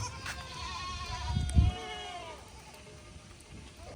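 Native goats on a farm in Jhargram, India, bleat a few times at moderate distance during the monsoon, with low rustling and bumping noises in the background.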